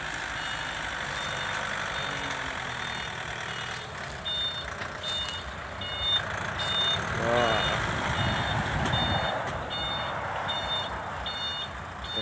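A six-wheel New Holland dump truck backs down a steep slope to tip soil, its reversing alarm beeping in a steady repeating series over the rumble of the engine, with someone talking now and then.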